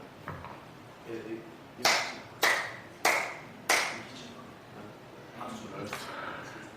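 During a church revival sermon, a preacher claps his hands four times in a quick, sharp, evenly spaced burst, close and loud, with softer talk and fainter claps around it.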